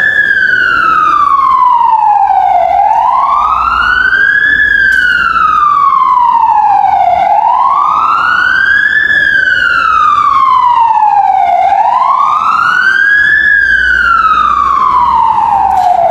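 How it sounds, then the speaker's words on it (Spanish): A loud wailing ambulance siren rises and falls in slow repeated sweeps, close by, with faint traffic rumble underneath and no talking. "Una ambulancia, por eso nos callamos un poco"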